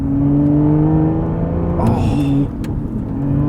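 A 2016 Aston Martin V12 Vantage S engine pulls hard in a loud, close drone that climbs, shifts with a brief rasp and settles before building again.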